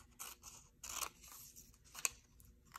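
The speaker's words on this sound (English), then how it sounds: "So I'm going to cut out that word" Scissors snipping through paper to cut out a printed word, a few quiet crisp snips in short uneven bursts with one sharper click, close by and with no talking.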